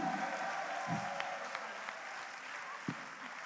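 A church congregation applauds to acclaim Jesus, a steady close wash of clapping hands that holds throughout with a few sharper claps standing out.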